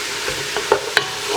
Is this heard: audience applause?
no